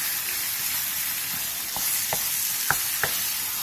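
Marinated meat with sweet potato stir-frying over high heat in an oiled pan: a constant loud sizzle close by, broken by four or five sharp scraping clacks of the spatula against the pan toward the end.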